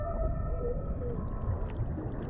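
Whale song heard underwater: long, wavering tonal moans glide up and down against a low, rumbling ocean background.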